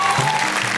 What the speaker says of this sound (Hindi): टुक टुक ताली बजाओ